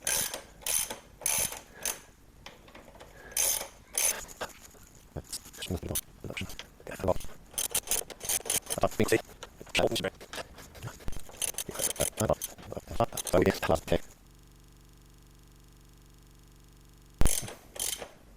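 Close, loud bursts of ratchet clicking and metal tool clatter loosening a bolt on a DT 100 motorcycle being restored, with someone talking between the bursts, then a few seconds of near silence and one final knock.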